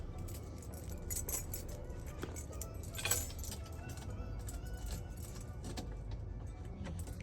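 Car keys on a ring jangle and clink near a vehicle under repair while the right key is hunted for, with brief metallic rattles and one sharper clink over a low background hum.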